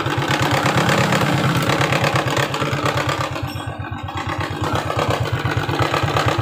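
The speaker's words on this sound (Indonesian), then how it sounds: "Motor ini bisa bunyi enak tanpa aki, bro." A motorcycle engine idles without its battery connected, with an electrical fault, giving a fast, even, close-up chugging pulse that dips briefly mid-way before steadying again.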